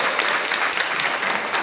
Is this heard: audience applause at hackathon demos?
yes